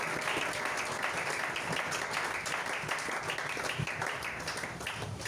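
A church congregation applauds and cheers at a Sunday service, steady dense clapping filling the whole stretch with a crowd roar beneath, loud and continuous without a break.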